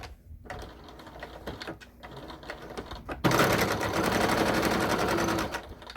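A sewing machine top stitches across a fabric wallet with card slots and a zipper, first in short intermittent bursts, then in a steady, louder run of a couple of seconds before stopping.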